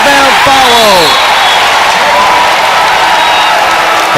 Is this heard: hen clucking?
no